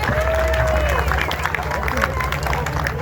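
Crowd applauding a race winner at a motorcycle speed trial in Grobiņa, a dense burst of clapping and cheering mixed with crowd babble and a loudspeaker voice, close and loud throughout.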